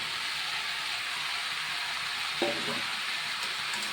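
Eggplant, potato and jackfruit seeds fry in a hot pan with a steady, even sizzle throughout, broken near the middle by a brief stir or scrape.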